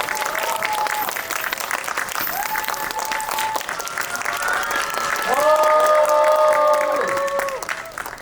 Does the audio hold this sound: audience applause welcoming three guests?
yes